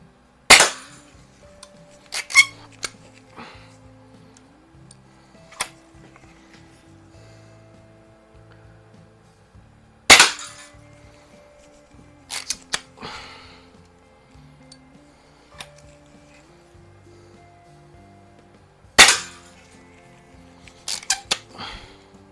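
Quackenbush air rifles fire pellets at cans, each shot a sharp, loud crack followed by quick metallic clanks and rattles, coming in irregular clusters roughly every ten seconds with quiet mechanical handling between shots.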